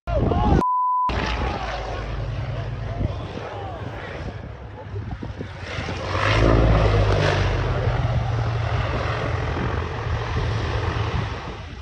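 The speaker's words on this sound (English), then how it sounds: "As the aircraft touched down, it tilted dangerously" A propeller cargo plane touching down on landing, its engine drone loud and steady throughout, with a rumbling swell partway through.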